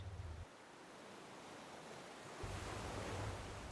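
Ocean waves rolling in a continuous soft wash of surf, with low swells dipping and returning, steady and unbroken with no voices.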